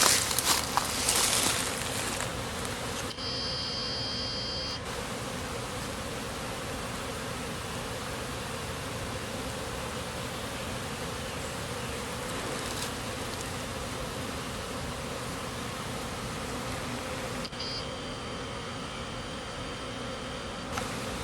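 Honeybees on warm-day cleansing and orientation flights buzz around a hive entrance fitted with a Guardian small hive beetle guard, a continuous close swarm drone with a few brief louder passes near the start and end.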